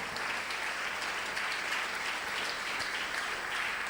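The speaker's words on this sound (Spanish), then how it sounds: "Fuertes aplausos para nuestro Señor" A church congregation applauds in praise during a Spanish-language sermon, producing a continuous, even wash of many hands clapping at a moderate distance, sustained without pause for the whole stretch.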